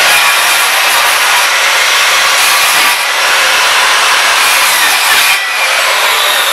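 A circular skill saw cuts through the subfloor of a vintage Airstream trailer around rusted screws, a loud, continuous, harsh whine with a couple of brief dips in load, close up and with no talking.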